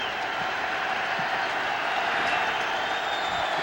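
Stadium crowd at a 2005 Minnesota Vikings football game against the Tampa Bay Buccaneers, a steady dense roar of many voices, sustained and even throughout, with a commentator speaking over it.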